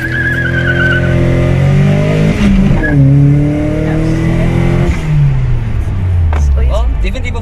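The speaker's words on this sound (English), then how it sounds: "the car sounds super nice as well" A car engine revs loudly and repeatedly, pitch climbing and dropping through the gears, close up with tire noise mixed in.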